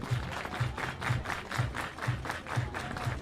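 Fans at a Marion Berries vs Portland Pickles West Coast League playoff baseball game clapping hands in a steady unison rhythm, about two claps per second over a low rhythmic thump, with distant crowd noise.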